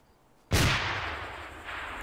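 A grenade explodes in ARMA 2, a sudden heavy boom after near silence that rolls out into a long rumbling decay, with no talking.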